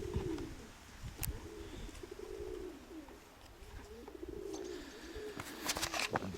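Soft, repeated pigeon coos in low rolling phrases, with faint chirps and a few brief rustles in the background.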